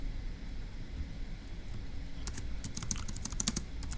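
Typing on a computer keyboard while working a Turing Machine logic puzzle: scattered key clicks over a quiet background, sparse at first, then a quicker cluster of taps in the second half, close and fairly soft.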